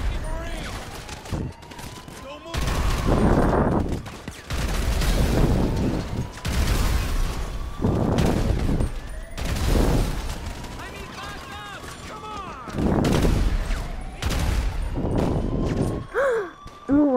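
Gunfire in GTA 5 during an apocalypse-mode game, bursts of rapid shots and booms recurring every couple of seconds across the clip, loud and close, with occasional speech and game sounds between volleys.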